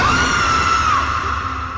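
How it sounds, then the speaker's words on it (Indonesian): A cleaning worker lets out a loud, sustained scream with a wavering, rising-and-falling pitch, used as a horror story sound effect over a steady dark rumble. "Teriakan petugas kebersihan itu sampai terdengar di penjuru kampus."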